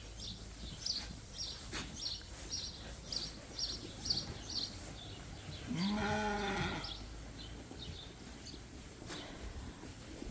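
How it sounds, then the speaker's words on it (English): A show-quality ram on a sheep farm lets out one drawn-out bleat midway, set against a steady backdrop of rapid, repeated high bird chirps. "This is a really, really nice ram."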